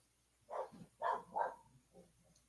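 A dog named Honey barks a few times in a short, uneven burst, the yaps moderately close and fairly quiet against a still background.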